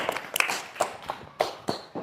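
Several sharp, sparse hand claps in a classroom, about five or six distinct slaps spread irregularly over two seconds, fairly close and moderately loud, with no talk over them.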